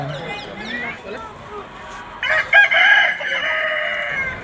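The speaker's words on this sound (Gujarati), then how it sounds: "અમે જોયા બહુચરાજી માના કુકડા" Roosters at Bahucharaji temple crow in close, repeated calls, with a louder, strained crow rising midway, while people talk nearby.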